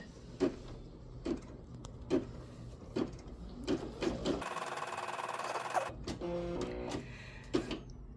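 A Brother M380D embroidery machine stitching a design, sounding as a regular series of sharp mechanical clacks with a whirring motor run in the middle and brief buzzing tones near the end, fairly quiet and with no voices.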